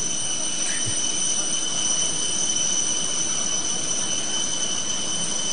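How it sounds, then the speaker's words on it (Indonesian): A Saudi Arabian Airlines Boeing airliner's jet engine whines steadily with a high-pitched tonal drone over a broad roaring rush, constant and fairly loud throughout with no talk. "King Salman bin Abdul Aziz Al Saud, saudara, yang Anda saksikan menuruni pesawat Boeing Saudi Arabian Airlines"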